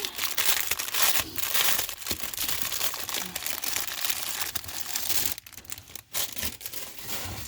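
Crinkly plastic packaging of a diamond painting bookmark kit is torn open, giving loud, close crackling and rustling bursts that continue for several seconds with brief pauses.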